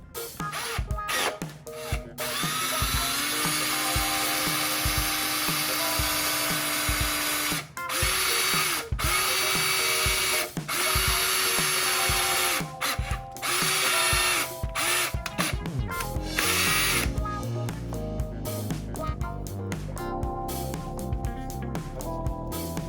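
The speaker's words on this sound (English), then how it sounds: "I'll go ahead and screw it or drill it" Power drill bites into a Lexus Toyota A650E automatic transmission seal, whining loudly in long runs broken by brief stops and restarts, then rougher grinding bursts toward the end, close up with no talk.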